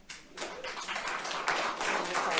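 An audience claps at a state senate committee hearing on the 2020 election, a dense continuous round of applause that swells slightly and holds steady, with no speech over it.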